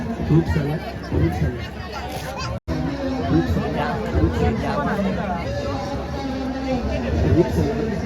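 A dense crowd of pilgrims at a Hindu temple, loud continuous babble of many voices close around, with a brief dropout partway through.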